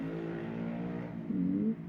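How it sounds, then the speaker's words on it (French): A car passing outside, a steady low engine hum that swells into a brief louder rev near the end, moderately faint and heard alone. "bruit de la voiture"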